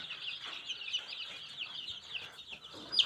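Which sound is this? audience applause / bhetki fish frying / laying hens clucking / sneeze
laying hens clucking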